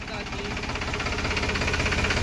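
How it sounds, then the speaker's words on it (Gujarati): Diesel tractor engine running in a field while spraying pesticide, a steady knocking mid-pitched chug with continuous vibration, moderately close and holding even throughout. "આવી ગયા દવા છાંટતા ટ્રેક્ટર હાંકવા"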